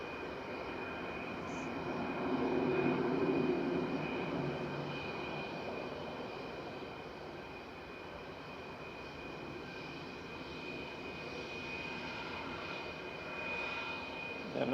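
A Boeing 757 jet airliner departing Manchester Airport sends out a sustained, broad engine roar that swells early and then holds steady at a moderate distance, with no talking over it.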